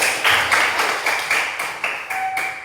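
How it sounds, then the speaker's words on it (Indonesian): A classroom of pupils claps together for a few seconds, a dense, uneven patter of many hands close by, with short bursts swelling and fading. "Berikan aplaus."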